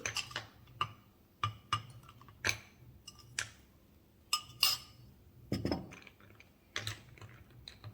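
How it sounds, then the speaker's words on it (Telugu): Ice cubes dropped into a glass of sweet lassi, giving a series of sharp clinks and knocks at irregular intervals, close and moderately loud with no voices. "ఇందులో ఇప్పుడు కావలసినన్ని ఐస్ క్యూబ్స్ కూడా వేసుకోవాలి."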